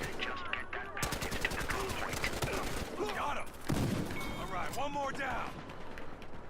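Rapid automatic AKM rifle fire in the Battlefield Hardline beta, dense bursts of close gunshots running almost the whole time, with a heavy recoil-driven chatter and game effects mixed in.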